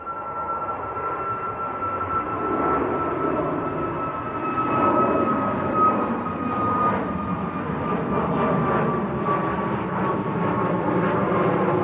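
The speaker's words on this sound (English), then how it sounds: "Malta Air on the go around due to the Hainan occupying the runway." A Malta Air airliner going around at Manchester Airport, its jet engines giving a loud, steady roar with a sustained whine that holds for the whole stretch.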